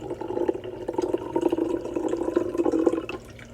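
Room-temperature water pours into a pot with ice in it, making a continuous splashing, gurgling stream that trails off near the end.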